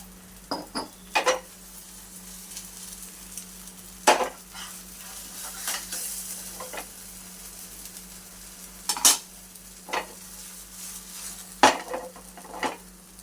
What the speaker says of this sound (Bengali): আমি সাদা তেল দিয়ে ভাজছি